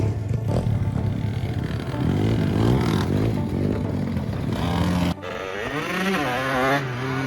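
A motocross dirt bike engine revs hard and roars, rising and falling in pitch, loud and close, with a brief drop before revving again.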